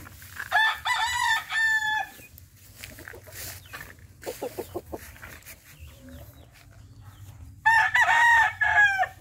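A white Kelso gamefowl rooster of Thompson bloodline crows twice, close and loud, one crow at the start and another near the end, with scattered clucks and a low hum of farmyard noise between.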